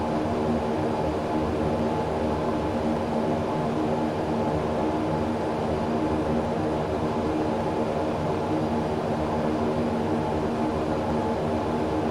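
Engines of a Fairchild-Dornier 328 propeller aircraft in the X-Plane 11 flight simulator make a steady, unchanging droning hum that runs the whole time, loud and with no talking.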